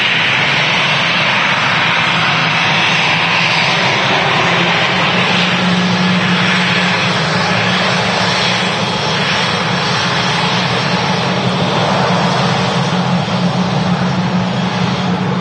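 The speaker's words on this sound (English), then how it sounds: "These CFM 56 engines have like a buzzsaw sound when they go to take off thrust usually" CFM56 jet engines on an airliner spool up to takeoff thrust at Manchester Airport, a loud, steady broadband roar with a buzzing edge that holds without a break throughout, no voices present.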